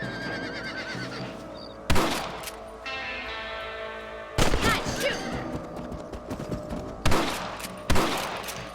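Gunshots ring out while hunting a rabbit in the video game Red Dead Redemption, four loud, sharp reports spaced a few seconds apart over tonal game ambience and music.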